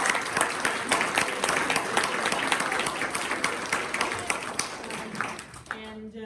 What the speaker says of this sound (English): Okay, these two deserve a huge round of applause for